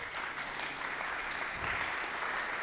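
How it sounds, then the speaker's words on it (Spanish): Audience applause for a speaker at a constitutional history course session, a moderately distant, even patter of clapping hands that holds steady for a few seconds. "Pido un aplauso para el maestro Ruiz Barraza"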